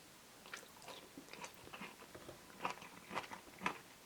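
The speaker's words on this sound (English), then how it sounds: "The pickle is a bit soft. Let's see if it is still a bit crunchy though." Several close, crisp crunches as a slightly soft pickle in a KFC Korean burger is bitten and chewed, quiet and irregular, the last few bites sharpest.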